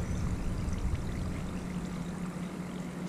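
Water bubbles and rushes steadily through an appliance running a descaling cleaning cycle that clears scale and calcium deposits, a continuous close-up gurgling wash with no pauses.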